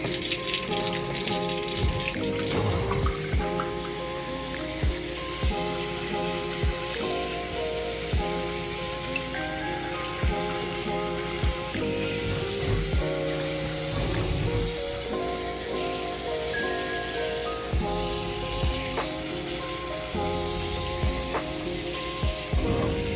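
Water runs and splashes while houseplants are watered indoors, a steady spraying trickle lasting the whole stretch with small clinks and bumps scattered through it and no talk.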